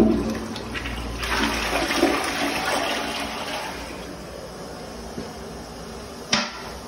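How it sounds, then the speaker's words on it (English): An old toilet in an antique store's men's restroom flushes with a long, steady rush of water that fades into trickling, followed by a sharp clunk near the end, with no talking. "Horrible flush and piece of fucking shit."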